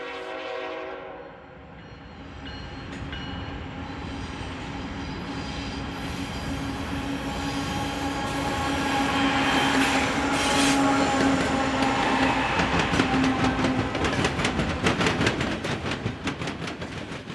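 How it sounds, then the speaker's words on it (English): A long freight train with distributed power locomotives passes close by. Its steady rumble and clatter of wheels swell over many seconds, with a sustained horn-like tone and squealing wheels running through it. "This is a long train and is typical of current day operations."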